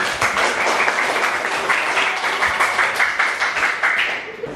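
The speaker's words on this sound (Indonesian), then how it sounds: "Aplaus." Steady applause from a classroom audience during a lesson on inheritance, dense clapping holding for about four seconds before thinning out at the end, with no talk over it.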